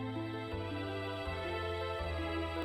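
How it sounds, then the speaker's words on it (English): Final Fantasy VII game over music plays alone: a slow, steady melodic line over sustained low harmony notes that shift every second or so, moderately loud throughout. "Final Fantasy VII has an amazing piece of game over music that sounds like this."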